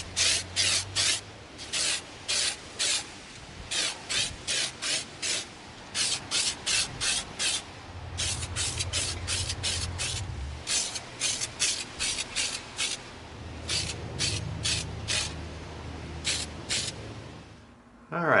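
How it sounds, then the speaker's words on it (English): Short bursts of spray paint hiss from an aerosol can coating an EVA foam laser pistol in flat antique nickel, coming close in an irregular rhythm of quick spurts separated by brief pauses, with a faint background hum. "We're going to begin spraying our laser pistol with our flat antique nickel."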